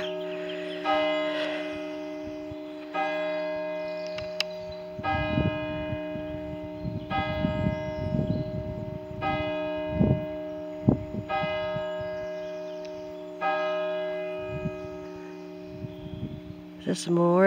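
Church bell at St James, Winscombe, ringing in repeated evenly spaced strikes with long sustained ringing tones, heard outdoors with footsteps and some handling noise beneath.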